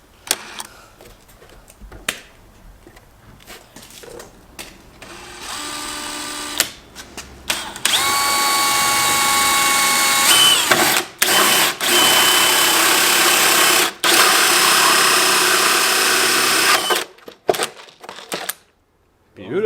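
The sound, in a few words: power drill drilling a hole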